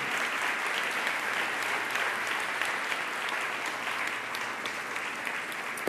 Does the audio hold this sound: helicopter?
no